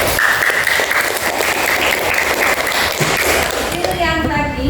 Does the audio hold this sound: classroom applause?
yes